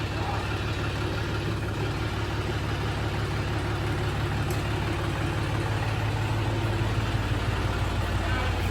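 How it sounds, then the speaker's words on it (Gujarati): A tractor engine idles nearby, a continuous low rumbling drone at steady loudness for the whole stretch, with no talking. "ટ્રેક્ટર આખું ભરેલું ઘરે આવ્યું જ વાડીએથી"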